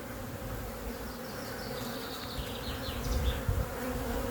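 Honeybees buzzing and beating their wings inside a hive, a dense, continuous drone close to the microphone with slight swells in loudness, heard without any talking.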